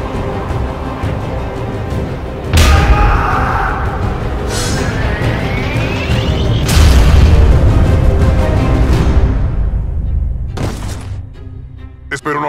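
In an animation, a deep booming blast erupts, followed by a long rumbling roar and a second burst, loud and close with continuous noise throughout.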